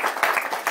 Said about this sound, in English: I think he can get a clap for that.